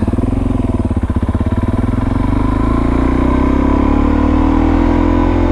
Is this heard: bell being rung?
no